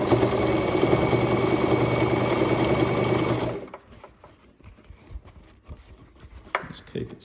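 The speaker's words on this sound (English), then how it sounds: "I've been sewing on a sewing machine for a grand total of 1 day." Rapid mechanical whirring of a sewing machine stitching boat cushion fabric for about three and a half seconds, then it stops, leaving quiet rustling and faint handling noises.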